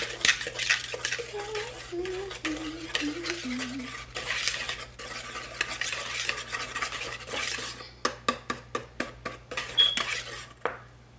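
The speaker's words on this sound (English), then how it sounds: "We're gonna add that right in. And we're gonna whisk it up." Pumpkin puree, brown sugar, nutmeg and salt are whisked in a bowl, with rapid scraping and clinking of the whisk against the bowl, ending in a series of sharp taps, and a faint voice in the background.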